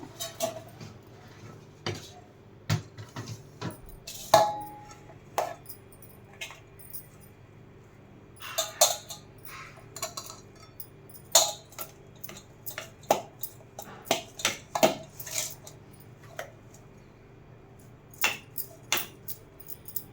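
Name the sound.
cooked rice being taken out of the cooker into a basin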